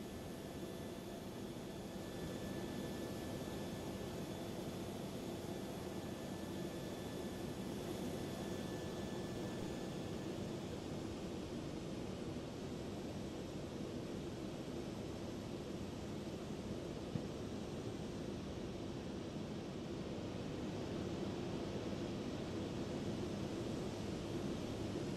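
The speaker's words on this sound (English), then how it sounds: "we'll hop outside and hear the back of the turbine" A Boeing 777 jet engine in a flight simulator, heard from behind the turbine: a steady, broad roaring rush with a faint high whine, constant and unbroken throughout, moderately distant.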